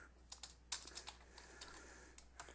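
Typing on a computer keyboard: a short run of light, irregular key clicks, close and fairly quiet, with no talk over them.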